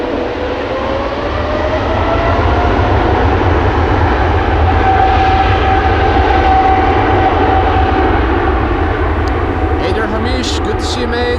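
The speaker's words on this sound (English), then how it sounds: "This 777 freighter is 15 years old" A 15-year-old Boeing 777 freighter, first flown in 2009, roars steadily at Amsterdam Schiphol Airport, its engines giving a loud, sustained rumble with a thin whine riding on top and voices murmuring underneath.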